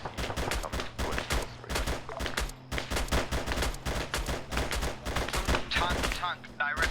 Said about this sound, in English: All this gunfire, Marshall, you got eyes on this gunfire?